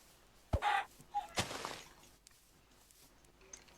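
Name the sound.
chickens clucking in a video game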